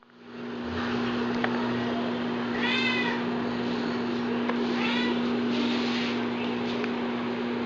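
Domestic cat meowing indoors near a clock, two drawn-out meows a few seconds apart over a steady electrical hum, fairly close and clear.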